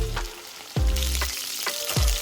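Vegetables sauteing in a hot pan for beef fried rice, a steady close sizzle broken by a few dull thumps as the pan is tossed or stirred.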